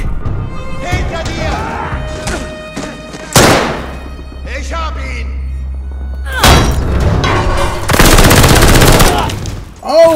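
Rapid machine gun bursts rattle loudly in Call of Duty Vanguard's Stalingrad battle, with heavy thumps and booms between long sustained volleys, close and dense, with game voices mixed in.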